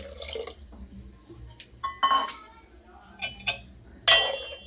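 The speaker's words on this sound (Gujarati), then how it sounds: "થોડું પાણી ઉમેરીશું।" Water is added to a drumstick kadhi spiced with red chili, coriander-cumin powder and turmeric, with short close splashes and sharp clinks of a utensil against the pot between quieter stretches.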